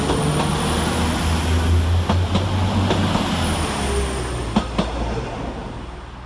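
A Northern passenger train, unit 195128, pulls out of Manchester Oxford Road station, its loud, steady diesel rumble and low engine drone filling the platform, with a few sharp clicks of wheels over rail joints as it moves off.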